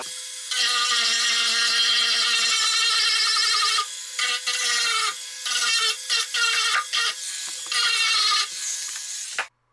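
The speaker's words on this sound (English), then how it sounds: "Here I'm using a Dremel-like tool with a sanding disc to remove the material from the center brace." A high-pitched Dremel-type rotary tool with a sanding disc whines steadily as it grinds material from a subwoofer's center brace, the pitch dipping and stuttering as pressure changes, then cutting off abruptly.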